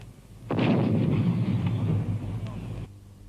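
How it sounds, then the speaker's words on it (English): A French 75mm field gun of the First World War fires one loud, booming report that rumbles and decays over about two seconds before cutting off. "It had the finest field gun in the world, the 75mm, the 75, flexible, mobile, able to fire 25 rounds a minute."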